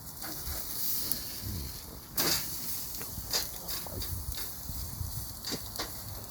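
Butter sizzling in a hot cast iron skillet on an infrared side burner, a steady close hiss with a few louder crackling bursts partway through.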